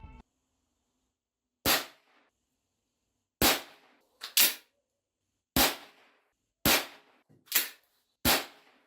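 Seven sharp gunshots from a Winchester Model 1890-style .22 rimfire pump-action varmint rifle in Red Dead Redemption 2, spaced irregularly with brief silences between, each a crisp loud crack with a short tail.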